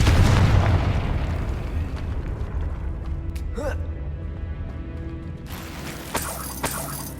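A Confringo blasting spell explodes in Hogwarts Legacy, a loud deep boom at the start that rumbles and fades, followed by sharper crackling pops and brief bursts later on.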